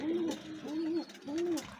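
Three rounded coos from young white golden pigeons, deep red-eyed chicks, come close and evenly spaced in a soft, repeating rhythm over faint background noise.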